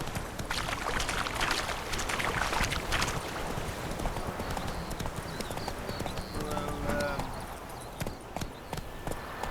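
Roach the horse in The Witcher 3 game, hooves clip-clopping in a steady galloping rhythm over a dense bed of ambient noise, with no talk over it.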